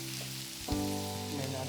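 A cashew, tomato and onion paste for methi chicken fries in a pan, giving a soft sizzle under a steady humming tone. A brief knock sounds partway through, then the frying continues, quiet and close.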